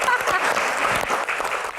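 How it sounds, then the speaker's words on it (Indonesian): Audience applause for Rano at a Q&A event, loud dense clapping from a crowd lasting about two seconds, with a voice partly audible under it. "Tepuk tangan dong buat Rano."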